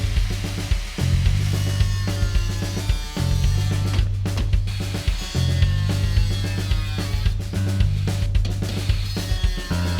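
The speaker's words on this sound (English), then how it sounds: "a diamond wheel doesn't cut aluminum very well at all" A grinder with a diamond wheel bites into aluminum in a cramped space, producing a loud, continuous droning whine with a steady low hum and brief dips as the cut catches.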